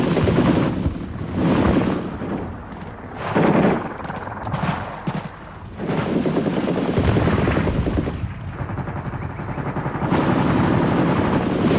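Soviet Mi-24 Hind gunship helicopters roar in the Afghan War amid bursts of gunfire, a loud dense rotor and engine din with repeated heavy firing swelling and fading throughout.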